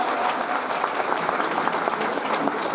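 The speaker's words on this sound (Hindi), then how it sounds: "तालियां रुकने नहीं चाहिए भाई।" Sustained audience applause fills a hall at an annual cultural program, many hands clapping steadily and evenly for the full length without pause.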